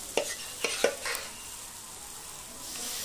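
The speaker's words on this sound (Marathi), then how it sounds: "आता आपण जी भाजी स्मॅश करून घेतली आहे ती सगळी भाजी आपल्याला या फोडणीमध्ये टाकून द्यायची आहे" Mashed pav bhaji vegetables are tipped into a hot spice tempering, giving a few sharp clattering stirs and scrapes in the first second, then a soft steady sizzle.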